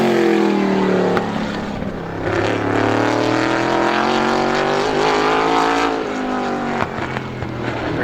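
A race car laps Star Speedway during ISMA qualifying time trials, its engine howling loud and close with rising and falling pitch as it passes and circles the oval, without talk.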